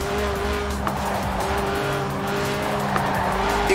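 A Lotus Elise in Forza Horizon 4, 1.8-litre engine, 190 horsepower, under 700 kilos, drifting with tyres squealing in sustained screeches over a steady engine note.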